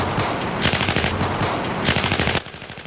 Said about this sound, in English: you're just going to hear him panic wrapping his pistol, just full auto